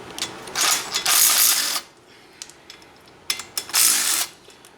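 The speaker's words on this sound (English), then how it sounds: "Then you can remove the caliper with a 12 millimeter." A wrench ratchets on the 12 millimeter brake caliper bolts of a Banshee's front brake, with two close, sustained runs of rapid metallic clicking separated by a brief pause.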